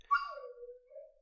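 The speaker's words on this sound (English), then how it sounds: "Yeah, that's a dog." A dog whimpers outside a room door, giving a single drawn-out whine that slides from high to low, faint and alone.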